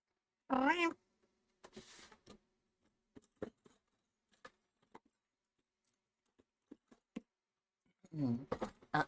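A cat in the video game Mise En Paws meows twice, once near the start and again at the end, with quiet clicks and light taps scattered between.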